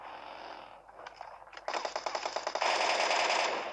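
Video game battle gunfire with rapid automatic bursts of rattling shots that build from scattered pops to a loud, sustained volley, close and without talking.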